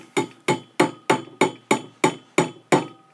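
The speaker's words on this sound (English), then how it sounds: "all I need is a hammer and a nail." A hammer strikes a nail into a wine cork nine times in a steady rhythm, each blow a sharp, loud, close metallic knock that decays quickly, with no talking.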